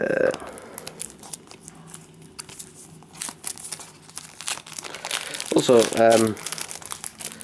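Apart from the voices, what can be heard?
unwrapping plastic-wrapped Doctor Who DVDs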